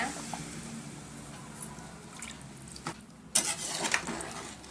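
Rice and water being stirred in a cooking pot while making soya chunks biryani, a soft continuous scraping and swishing with a few louder clinks and sloshes near the end.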